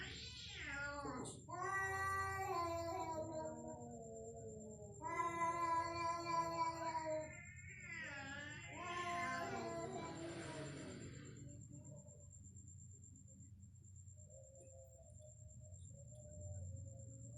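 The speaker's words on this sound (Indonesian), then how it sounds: "Itu ada suara kucing ya," A cat gives out a run of drawn-out, wavering meows that sound oddly human, several separate calls close together. A thin insect-like whine holds steady underneath, and after the calls the recording falls quiet.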